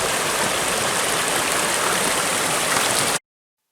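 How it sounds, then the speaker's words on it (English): Munson Creek rushes in a steady, loud broadband roar near the trail to Munson Creek Falls near Tillamook, Oregon, with the falls roaring behind it, continuous with no talk before cutting off abruptly. "we can hear the roar of the waterfalls in the background"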